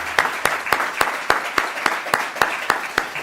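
Regular, evenly spaced hand claps at a PechaKucha literacy presentation event, a steady rhythmic clapping of about a dozen sharp beats rather than a dense crowd wash, moderately near.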